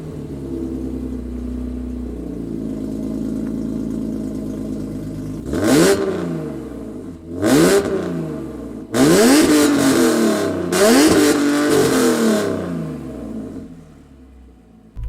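A 2003 BMW M3 E46 revving while driving, first a steady drone, then several loud rising revs with sharp shifts in between, heard from inside the car.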